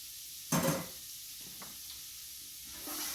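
Chopped onion and thinly sliced celery, seasoned with salt and pepper, are stirred in a pot. A short, loud burst of sizzling is followed by a softer, steady frying hiss.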